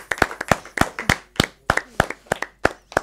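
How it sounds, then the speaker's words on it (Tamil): A live studio audience on a Tamil television programme claps hands in uneven, sparse bursts, with sharp individual claps scattered across a few seconds and no talking. "ஒரு சேர்த்து கைத்தட்டுகளும் வந்து கொடுத்துடலாம்."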